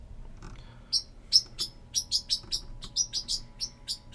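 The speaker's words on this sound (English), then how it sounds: "My bird once again, wanting to be heard." A pet bird chirps repeatedly indoors, a steady run of bright, sharp tweets spaced about a third of a second apart, close and fairly loud over a faint room hum, with no talking.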